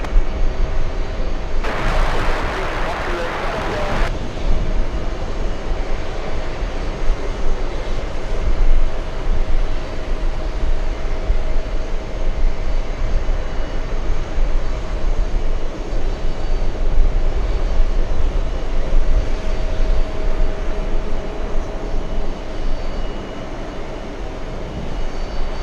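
A jet airliner's engines roar steadily on a runway at JFK airport, a sustained, loud, broadband rumble with a brief sharper burst near the start and no speech.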